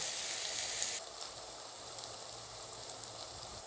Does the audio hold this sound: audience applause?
no